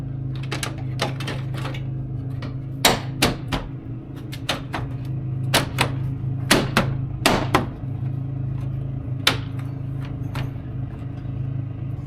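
Plastic grille clips on a car snap back into place as the grille is pressed home, a series of sharp, irregular clicks and knocks over a low steady hum.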